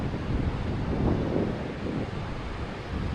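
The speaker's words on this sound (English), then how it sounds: "I can hear the beach and it sounds beachy." Ocean surf washes onto Ocean Beach near Nelson, a broad, steady rumble with a gentle swell in loudness, mixed with wind buffeting the microphone and no talk.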